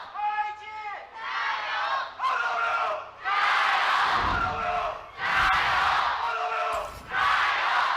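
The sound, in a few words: esports arena crowd yelling and cheering at LPL match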